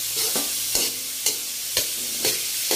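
Ham, egg and cabbage fry in a wobbly wok, giving a continuous sizzle punctuated every half second or so by sharp scraping and clanking stirs of the metal pan, close and fairly loud.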